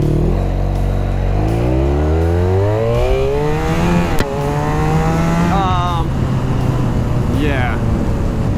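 A Honda VFR1200 motorcycle launching hard from a standstill, its engine note climbing sharply through several gear changes, each shift dropping the pitch before it rises again, loud and close.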